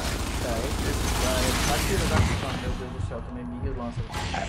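Gunfire in the video game Gears 5, dense shots and bursts running under excited Portuguese chatter and laughter from players throughout.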